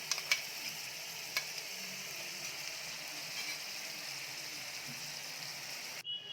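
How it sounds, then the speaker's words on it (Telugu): Paneer masala paste fries in a pan, a faint, even sizzle running throughout, with a couple of light clicks early on and a brief bump at the end. "ఈ విధంగా పేస్ట్ మొత్తం వేసి వేయించుకోవాలి"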